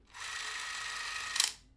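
Krasnogorsk-3 16mm film camera with its shutter released and the film transport running: a steady, quiet, high mechanical whir for about a second, ending in a brief louder click as it stops.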